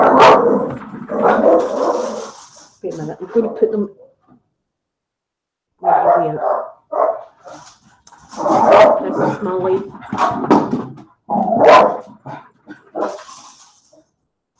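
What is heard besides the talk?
dog barking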